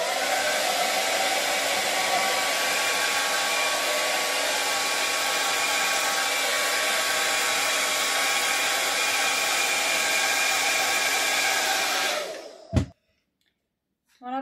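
A Philips Thermo Protect BHD350/10 hair dryer blows steadily for about twelve seconds with a loud, even rushing whir, then cuts off abruptly with a click, leaving near silence before a short rustle.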